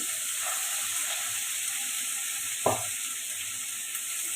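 Chopped tomato and onion fry in a pan for a pomfret fish dish, a steady, even sizzle and hiss with a single sharp clink partway through and no voices.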